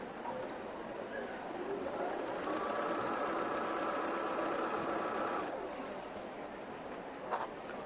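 A sewing machine stitches quilt block seams at a quilting festival demonstration, a steady, continuous mechanical whir in bursts that holds throughout under faint hall ambience.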